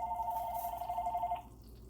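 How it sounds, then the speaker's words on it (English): A phone rings with a steady electronic tone for over a second before cutting off, faint against a low background hum in a home kitchen while roast beef is being prepared. "Now, wouldn't you know my phone is ringing?"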